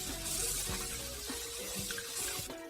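Rice grains being rinsed by hand in a bowl of water, making steady splashing and sloshing with soft swirling, close up and fairly loud, with no talking.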